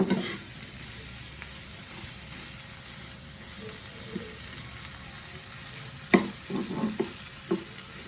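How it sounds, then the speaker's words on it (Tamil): Dried vanjaram fish thokku is mashed and stirred in a hot pan, giving a soft, continuous sizzle with a few sharper scraping strokes of the spoon toward the end, close and fairly quiet. "நல்லா எல்லாம் சேர்ந்து நல்லா இப்படி மசிச்சு விடுங்க"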